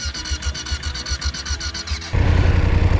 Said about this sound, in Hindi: फाइनली मेरे को जंप स्टार्टर निकालना ही पड़ा तब जाके स्टार्ट हुई बाइक